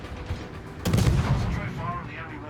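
A heavy warship gun fires at the Shiratsuyu destroyer in World of Warships, one deep booming blast near the middle with a rumbling tail, over lower background battle noise.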